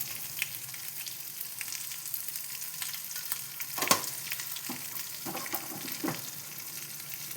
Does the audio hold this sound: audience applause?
no